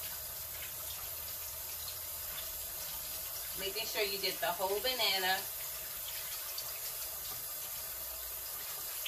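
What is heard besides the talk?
water running while washing bananas with soap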